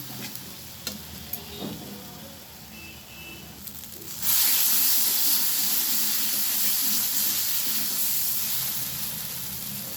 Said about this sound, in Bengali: টমেটো বাটাটা দিয়ে দিলাম আমি এবারে ভালোভাবে মশলাটা কষিয়ে নেব